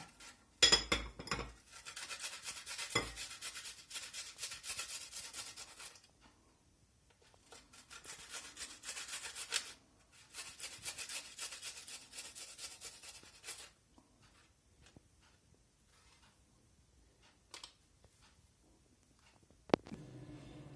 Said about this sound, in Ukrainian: Але на таку мільчу терточку два зубчика чесника я сюди оботру